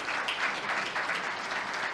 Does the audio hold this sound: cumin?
no